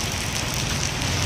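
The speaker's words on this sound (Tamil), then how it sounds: "மழை எப்படி பெய்யுதுன்னு பாருங்க" Rain falls steadily at a fuel stop near the head post office in Virudhunagar, a dense continuous hiss and patter with a low rumble beneath, no voices heard.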